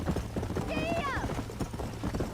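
Horse hooves gallop in Red Dead Redemption, a quick, steady clip-clop close by, with a brief rising whinny-like cry in the middle.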